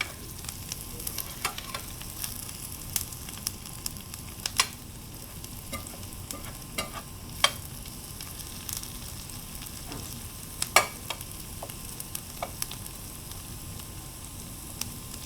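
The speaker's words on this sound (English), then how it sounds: "You're also smelling that butter starting to brown" Butter browning in a pan with onions and garlic for adobo broccoli and cauliflower, a steady soft sizzle with occasional louder pops and crackles, no talking.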